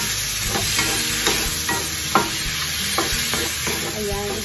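Squid and onions frying in a pan for adobong pusit, a constant loud sizzle under scattered utensil stirring taps, heard close up with no one speaking.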